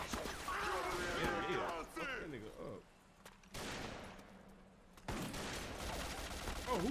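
Gunfire in the video game 50 Cent: Blood on the Sand, with sustained bursts of shots and explosive crashes that continue through the clip at moderate loudness alongside game noise and voices.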